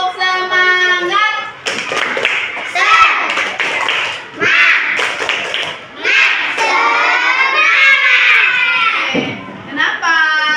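A group of children perform the tepuk semangat clapping routine, sharp hand claps in quick rhythmic bursts mixed with loud chanting voices, close by and continuous for about ten seconds.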